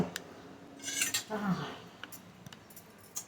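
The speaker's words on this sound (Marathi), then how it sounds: "बिर्याणीचा गॅस बंद करून दहा मिनिटं झालेली आहेत आता आपण ओपन करूया" A lid is lifted off a pot of jackfruit biryani with a few metallic clinks and scrapes, fairly quiet and close, while a voice speaks softly.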